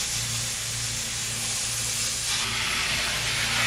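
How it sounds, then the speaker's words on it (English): A steady close hiss of cleaner being sprayed inside a 1964 Plymouth Belvedere barn find runs continuously, with a faint low hum underneath. "I'm just going to spray it down."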